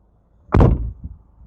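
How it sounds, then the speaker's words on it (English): A Honda HR-V car door swung shut, a single close, solid slam with a deep thud followed by a faint latch knock. "I shut the door. Bang."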